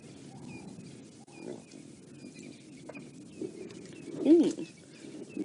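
Lions of a pride growl and rumble while feeding on a buffalo kill in the bush, with a louder close snarl near the end over a steady layer of low animal noise and faint bird calls.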